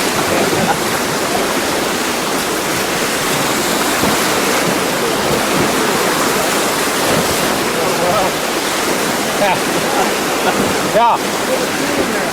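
Loud, continuous roar of river rapids and crashing waves while rafting on the Nahanni, a dense unbroken wash of water noise close to the microphone.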